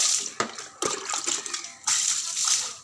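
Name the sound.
pouring water onto the floor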